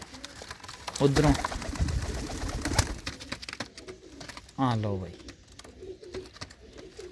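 Pigeon hens kept for flying from a home loft coo nearby in short throaty bursts. Wing flutters and a voice come in between.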